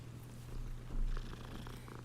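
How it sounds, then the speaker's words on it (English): A cat purring while being petted in Hogwarts Legacy, a low, soft, steady rumbling purr with light game ambience and faint higher chimes in the background, and no speech. "Pet that kitty."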